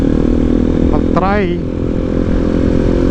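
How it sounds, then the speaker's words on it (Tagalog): A Bajaj NS200 motorcycle runs steadily during a test ride, its engine hum loud and continuous throughout, with a brief spoken voice rising over it near the start. "Gusto niya i-test ride tong motor kasi napupusuan niya daw to"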